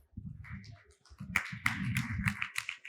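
Applause for a startup presenter at a pitch event in Saudi Arabia: scattered claps that swell into fuller clapping from a modest audience, fairly close.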